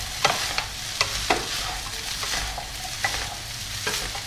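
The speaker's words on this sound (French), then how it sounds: "Je remélange un petit peu." Fried rice seasoned with fish sauce is stirred in a hot pan, giving a close, steady sizzle punctuated by a handful of sharp scraping knocks of the utensil, with no speech.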